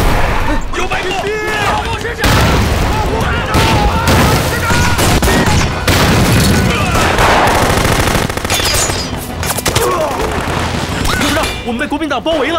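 Machine-gun bursts and rifle fire crackle loudly through a war-drama battle scene, dense and continuous with booming impacts, while shouting voices come and go over the gunfire.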